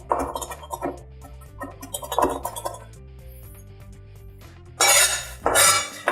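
A kitchen knife chops parsley finely on a cutting board for buffalo chicken meatballs, giving light, scattered taps and clinks that build into a denser run of chopping near the end, with steady background music underneath.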